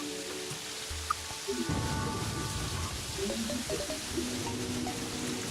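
Rain and thunder in Terraria, a steady patter of rain under low rumbling thunder, mixed with soft game tones and music.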